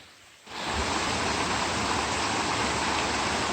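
Little Cataloochee Creek in the Great Smoky Mountains rushing beneath a road bridge, a loud steady torrent that surges in after a quiet half second and holds continuously.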